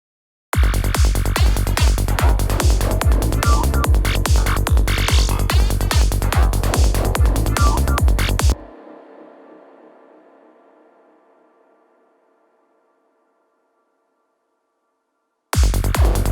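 Psytrance zap synth effects made in the Vital synthesizer play as a loud, rapid run of rhythmic zaps, then give way to a fading reverb tail and silence before the zaps come back at the end.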